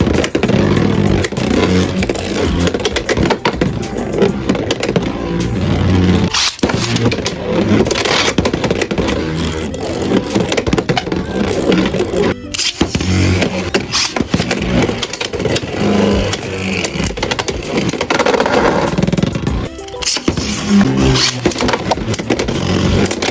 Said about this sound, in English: Let's see how this blade moves around the stadium.